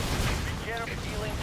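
Explosions from an air bombing run in the real-time strategy game Halo Wars rumble among other battle noise, with muffled blasts and crackle rolling through a short stretch.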